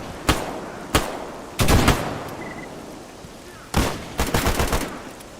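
Gunfire in Stalker Anomaly with the Gamma modpack comes as sharp, close single shots, then short bursts and a rattling volley, separated by quiet gaps.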